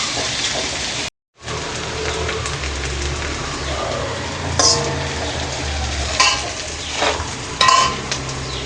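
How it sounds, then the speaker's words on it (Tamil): Vegetables stir-fry on high flame for veg fried rice, a loud continuous sizzle with occasional scraping stirs and clinks over a dense hiss. "ஒரு 5 minutes ஹை ஃப்ளேமில் வச்சு நல்லா ஃப்ரை பண்ணிக்கோங்க"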